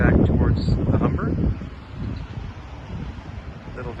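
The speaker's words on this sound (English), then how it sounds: "Got a little windy, so you might hear that" Wind blowing outdoors near the Humber, a rough, gusty rumble buffeting the microphone, loud at first and then easing to a steadier low rush, with faint traffic in the background.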